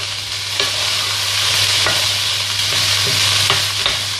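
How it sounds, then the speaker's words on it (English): Asian stir-fry vegetables and egg noodles sizzle loudly and continuously in a hot pan, with light scrapes and taps as the food is stirred. "I hope you can still hear me over the sizzle."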